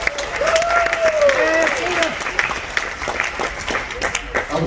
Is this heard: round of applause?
yes